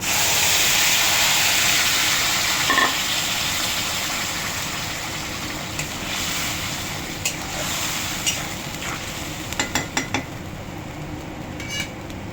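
Prepared spice paste hitting hot oil in a pan, a broad steady sizzle and hiss that slowly fades. Sharp clinks of a utensil against the pan sound near the end, and there is no talk.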